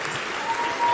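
Applause from an audience in a played recording of a speech: a dense, steady wash of many hands clapping, heard from a distance and slightly muffled, swelling a little toward the end of the brief stretch.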